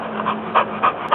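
A young puppy pants close by in quick, rhythmic breathy puffs, several short bursts over a low steady background hum.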